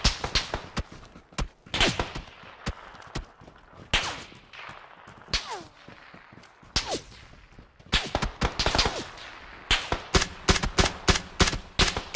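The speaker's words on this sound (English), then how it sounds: "Oh, he's across the road shooting." PUBG Battlegrounds gunfire cracks out in scattered single shots and quick bursts, some sharp and close and others more distant, with faint footsteps between them.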